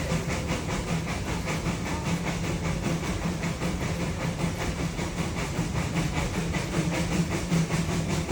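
Puffing Billy steam train running in Australia, giving a steady, loud rush of steam hiss and rolling rail noise with a faint regular puffing pulse throughout.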